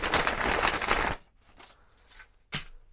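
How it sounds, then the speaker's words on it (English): Tyvek paper is crumpled and rustled close up in a loud, crisp crackling burst lasting about a second, followed by softer scattered crinkles and one more sharp rustle near the end. "If you don't like your TYVEK paper to sound like this,"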